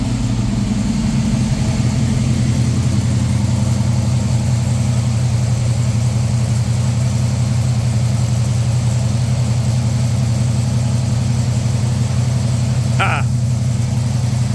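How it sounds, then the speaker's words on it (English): A 1969 Camaro Z/28 with its original DZ 302 V8 idles after a cold start, a steady low rumbling drone that holds evenly throughout, with one brief sharp sound near the end. "we're going to let you hear it idling here for a second"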